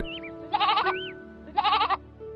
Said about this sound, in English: there came a goat.